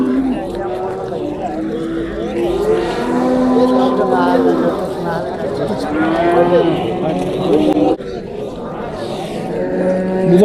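Calves moo repeatedly at a busy livestock market, loud and close, mixed with steady crowd chatter and people talking throughout.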